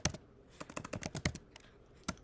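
Typing on a computer keyboard while entering JavaScript code, a run of close, crisp key clicks in an irregular rhythm with brief pauses and no talk.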